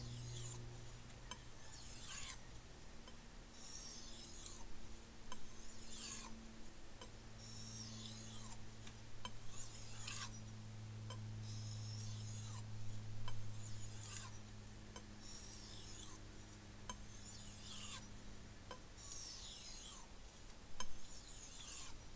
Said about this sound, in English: we have just finished polishing